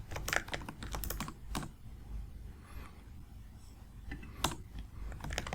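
Code being typed on a computer keyboard in quick bursts of close, crisp key clicks, with brief pauses between runs of keystrokes and a steady low background hum.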